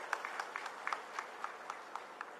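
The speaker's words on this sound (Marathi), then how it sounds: "एकदा जोरदार टाळ्या वाजवा" Faint, sparse clapping from a political rally audience, individual claps spaced irregularly rather than a full roar, distant and quiet with no talk over it.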